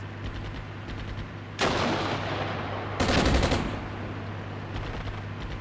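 Tank cannon fire in the Armored Brigade 2 battle game, a T-72 engagement, arrives as two loud booming shots with long rumbling decay over a constant low engine hum, no talk.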